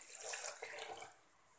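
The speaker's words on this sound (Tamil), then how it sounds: "நம்ம இதுக்கு தேவையான அளவு தண்ணி ஊற்றணும்." Water is poured into a cooking pot over toor dal lentils and tomatoes for sambar, a soft, close splashing trickle that fades out toward the end.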